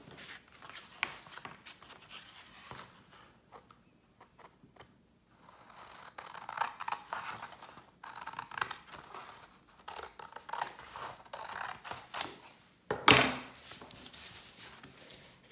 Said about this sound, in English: we are gonna cut along this line now